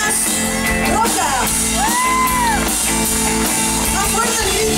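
A festival concert crowd in La Punta cheers and shouts loudly over live band music and singing, with a continuous dense roar of voices throughout.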